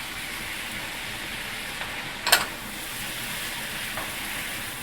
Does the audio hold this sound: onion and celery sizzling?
yes